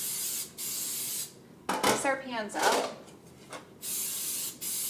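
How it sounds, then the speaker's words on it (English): Vegeline baking spray hisses onto bread pans in several short bursts, close and loud, with a brief spoken remark in the middle between the sprays. "It's a very good high quality baking spray"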